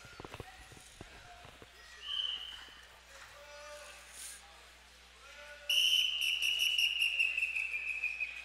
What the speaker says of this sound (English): Official blows the whistle to talk about the fingers again.